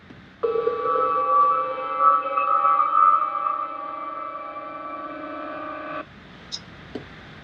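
Star Trek transporter beaming effect, a shimmering sustained tonal hum with sparkling overtones lasting several seconds, then stopping abruptly before a couple of faint clicks.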